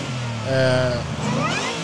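A supercharged V8 in a 2024 Ford F-150 Raptor R revs up, its roar rising and falling with a whining sweep, close and loud with a voice talking over it.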